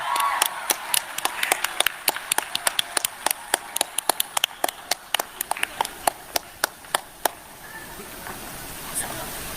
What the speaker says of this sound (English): We need some claps.